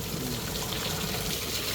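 Water being poured or run into a container for small shrimp beside a tilapia pond, a soft continuous gushing and splashing throughout, with no voices.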